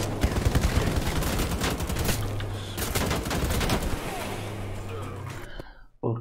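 Enemy gunfire in Wolfenstein: The Old Blood, dense rapid bursts of automatic fire that run almost continuously and loud with a steady low drone underneath, cutting off abruptly near the end.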